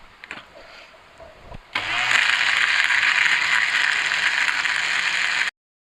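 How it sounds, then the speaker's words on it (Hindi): A kitchen blender whirs to life and runs at a steady, loud, high-pitched whine as it blends peach juice with two lemons. A few clicks come first, then the motor holds for several seconds before it stops abruptly. "अब इसको फिर से करेंगे 1 मिनट के लिए"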